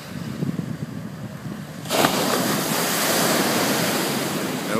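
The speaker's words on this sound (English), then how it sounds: "It's a beautiful day at the beach." Ocean surf rolls in at Hollywood Beach in Ventura County, California, on a calm morning, with a steady broad wash of breaking waves that swells louder partway through and continues, mixed with some wind noise and no voices.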